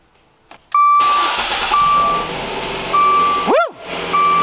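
A Dodge Dart GT engine cranks and catches via push-button start, settling into a steady idle, while a repeating electronic chime beeps from the dashboard.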